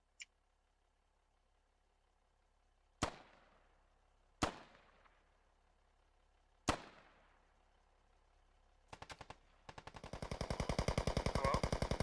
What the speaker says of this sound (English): Some gunshots.